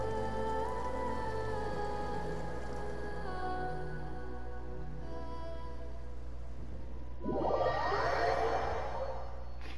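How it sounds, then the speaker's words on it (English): Rain falls steadily across a Genshin Impact world during the Khvarena of Good and Evil quest: a constant wash of droplets on surfaces, with a fuller, brighter swell of rainfall near the end. "it literally rains down"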